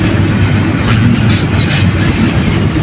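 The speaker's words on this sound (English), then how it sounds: "This is a train." A heavy freight train carrying metals rolls past close by, a loud steady rumble with rhythmic clacking of wheels over rail joints and faint metallic squeals.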